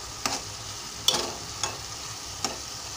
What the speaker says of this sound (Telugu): బాగా ఇలా వేయించుకోవాలి ఆయిల్లో.